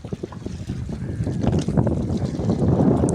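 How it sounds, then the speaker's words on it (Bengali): Wind gusting by the Hooghly River at Diamond Harbour, a steady broadband rush that builds and stays loud, with faint lapping and no clear talk. "খুব সুন্দর হাওয়া বইছে"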